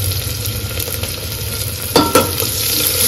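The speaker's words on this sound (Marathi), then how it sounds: "आता टोमॅटो टाकून घेते," Chopped tomatoes go into onions frying in a pan for pulao and get stirred, giving a steady sizzle with a couple of sharp scraping stirs near the end and no talk.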